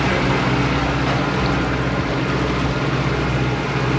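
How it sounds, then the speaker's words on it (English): A cruise boat's motor drones steadily and loudly, with a constant low engine rumble and water noise throughout and no break. "So we're on the cruise boat now."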